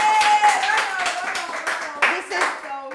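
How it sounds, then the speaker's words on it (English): A studio audience on a talk show claps for guest Cleon Porter, with quick uneven bursts of hand claps that rise and dip in loudness while a voice talks over them. "Guys, I want you guys to give Cleon Porter a big round of applause."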